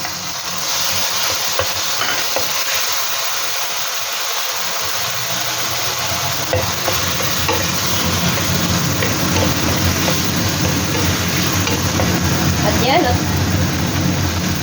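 Eggplant and chili sauté in a pan with a steady, close sizzle and the scrape of stirring throughout, while a voice talks over the cooking.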